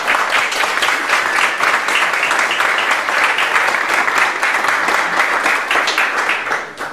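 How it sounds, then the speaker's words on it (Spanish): Sustained audience applause for a panelist at a public discussion forum, a dense even wash of many hands clapping at steady loudness for the full length, with no speech over it. "Tenemos a don Lalo Meneses, líder de Panteras Negras, para quien pido un aplauso"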